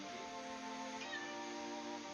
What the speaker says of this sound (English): Apparently, a cat is sleeping on my hat